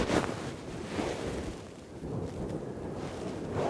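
Wind blows across a golf course at St Andrews in steady, gusting buffets against the microphone, a continuous rough rush that swells and eases, with no voices.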